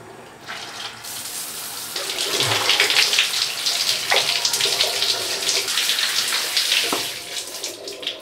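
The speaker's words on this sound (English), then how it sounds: "the first thing I'm always doing when I wake up is taking a cold shower" A cold shower runs steadily, a loud continuous spray of water that swells after the first moments and keeps hissing without any talk.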